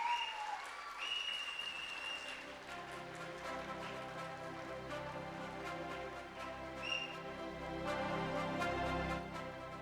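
A school graduation ceremony audience claps continuously throughout, a soft, fairly distant wash of applause with faint tones and brief voices in the room.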